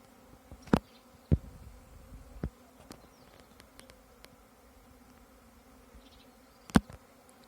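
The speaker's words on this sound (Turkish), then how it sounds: "Şu anda oğul şu anda giriyor kovana." A honeybee swarm makes its way into a hive, giving a faint, steady buzzing hum with a few sharp nearby knocks and clicks, in a quiet outdoor setting with no speech.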